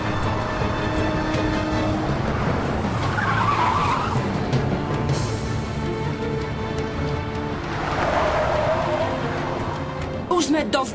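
A car driven recklessly skids and squeals its tires, two swelling screeches over a loud roaring engine, with voices talking over the din.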